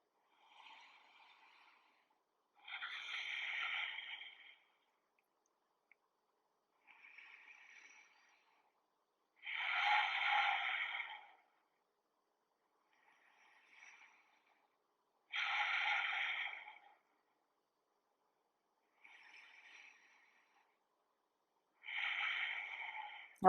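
Slow, deep breaths during a yoga pose, each long exhale or inhale rising and fading at an even pace of about five seconds, soft and close in a quiet room.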